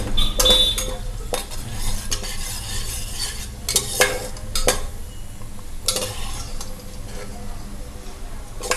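Onions frying to golden brown in a pan while being stirred for an Andhra village-style tamarind fish curry; steady sizzling underlies repeated metallic scrapes and clinks of the spoon against the pan, close and fairly loud, without speech.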